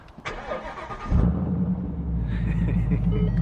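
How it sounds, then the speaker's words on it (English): A car engine starts up loud and close, catching with a burst and settling into a deep, rough growling idle that holds steady for a few seconds, with no one speaking. "Listen to this growl on start up."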